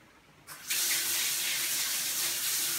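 Water gushes from a tap while someone cooks dosa in a home kitchen, a sudden steady rushing stream that starts after a brief pause and keeps running loud and close.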